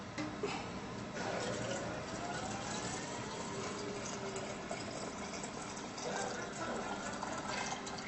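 Beef and barley soup is poured into canning jars, a continuous liquid filling and splashing at close range with faint movement of utensils and jars.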